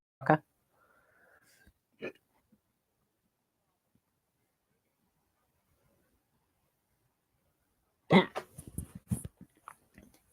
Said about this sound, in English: Third hiccup on camera.